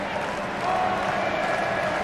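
A packed stadium crowd roars steadily at an Indonesia vs Thailand football match, a dense, continuous wash of cheering noise with commentary talking over it.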